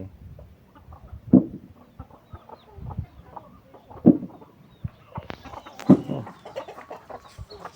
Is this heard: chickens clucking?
yes